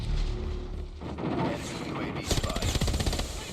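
Rapid automatic gunfire in the mobile shooter COD Mobile rattles in dense bursts that sharpen toward the end, with a player's voice talking over the shots.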